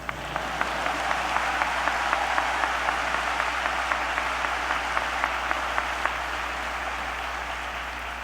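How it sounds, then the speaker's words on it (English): A large commencement crowd applauds the graduates in a broad, steady wash of clapping with one or two crisp rhythmic claps standing out nearby, over a constant low hum. "You can clap."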